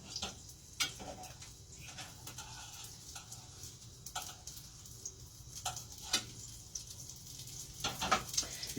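Navajo fry bread cooks in hot oil with a faint, steady sizzle, broken by scattered small pops and ticks at irregular intervals, quiet and close with no talk over it.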